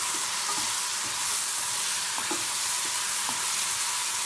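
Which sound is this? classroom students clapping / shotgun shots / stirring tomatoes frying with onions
stirring tomatoes frying with onions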